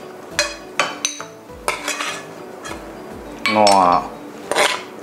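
Metal spatula scraping and clanking against a pan and plate while stir-fried Chilean mussels in XO sauce are scooped out, a series of sharp clinks with a brief sizzling scrape, close and loud.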